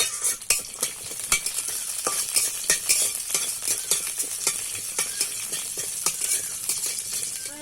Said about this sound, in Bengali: এই যে গোটা লঙ্কা দিয়ে দিচ্ছি আর ভালো করে ভেজে নেবো একটু তেলে